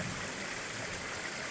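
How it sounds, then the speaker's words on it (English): Rainbow Falls, a multi-tiered waterfall, gives a steady, even rush of falling water that stays constant throughout, moderately close, with no voices. "here is Rainbow Falls, a multi-tiered waterfall beautiful in its own right"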